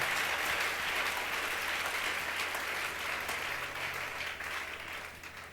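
A church congregation applauds together, a dense sustained patter of clapping hands that holds steady and then gradually fades toward the end.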